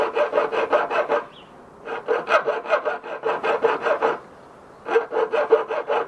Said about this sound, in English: Okay, so you're just gonna use a file.